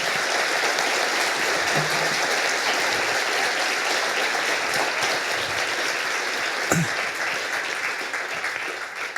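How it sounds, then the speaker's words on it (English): Sustained applause from a large crowd, a dense even wash of clapping that holds steady and tapers slightly at the end, with no talking over it. "Professor Nye, I think the applause is bear witness to our deep appreciation"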